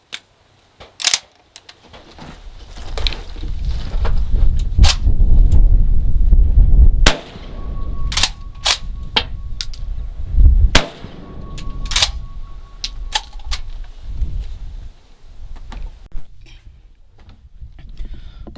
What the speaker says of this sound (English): Let's just throw a couple rounds in here and gets a little bit more shooting of this